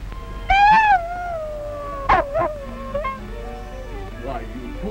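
A dog howls in a 1932 feature film, a rising then falling drawn-out howl followed by shorter whimpering yips, close and clear over a quiet old-film hiss, with a voice speaking nearby.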